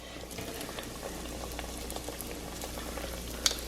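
Beignets fry in hot oil that bubbles and sizzles steadily, a dense crackling froth with a faint clink near the end.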